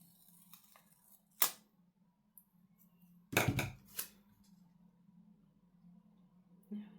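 Scissors cut paper for a planner, giving a few sharp, close snips and crisp crunches scattered through a quiet room with a low background hum.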